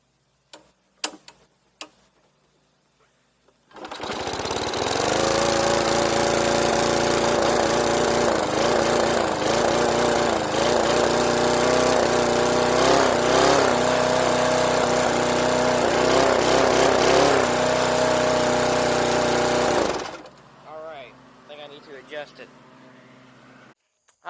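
A small lawn mower engine starts abruptly and runs at a steady, loud, close chatter for about sixteen seconds before cutting off, with faint voices around it.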